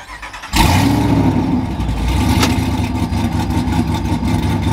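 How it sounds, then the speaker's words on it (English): A truck engine fitted with a trans brake for drag launches cranks and catches with a sudden loud roar, then idles in neutral with a steady, heavy rumble that stays loud throughout. "I'm going to start the truck. It's going to be very loud"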